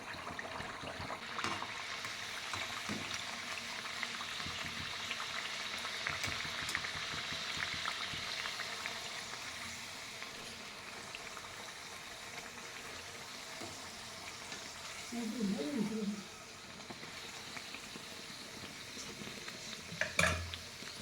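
Sweet pumpkin gharge puris fry in hot oil, a steady close bubbling sizzle that runs throughout, with a soft clink of a utensil near the end and no talking.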